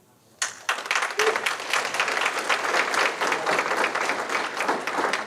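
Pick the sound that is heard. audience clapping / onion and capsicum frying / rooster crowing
audience clapping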